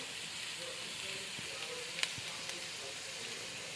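Dried fish (tuyo) frying in a hot pan gives a steady, close sizzle and crackle, with a couple of small pops and light taps of a utensil.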